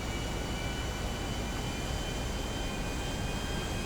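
An airplane comes in to land at Blaine County Airport in the video game GTA V, a steady, loud engine roar and rushing wind without change or pauses.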